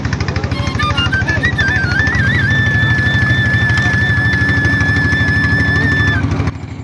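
A motor boat engine on the monsoon-swollen Jamuna river drones steadily and loudly up close, a low throbbing hum that holds throughout, with a thin high whistling tone riding above it for most of the run.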